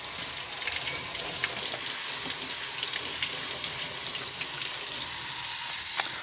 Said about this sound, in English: Alton Brown says washing your mushrooms is okay.